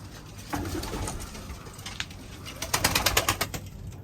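A caught stray pigeon coos softly nearby over a steady background hum, with a brief flutter and then a quick run of louder clicks and taps toward the end.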